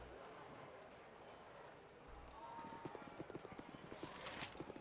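Steady clip-clopping of horse hooves in the video game Baldur's Gate, a regular trotting beat growing clearer in the second half over a low background hum.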